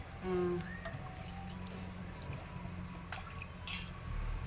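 Village-style leafy greens being washed by hand in a vessel of water, with faint sloshing, trickling and dripping close by in a quiet room.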